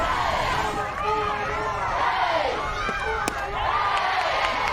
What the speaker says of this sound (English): this crowd for Tennessee is just fired up, yelling and screaming in the stands